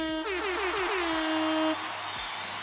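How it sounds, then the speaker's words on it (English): Air horn sound effect played on a livestream to welcome newcomers: a loud, steady blaring horn with a short pitch wobble at the start, holding for about a second and a half before cutting off abruptly. "so they get the air horn in the crowd"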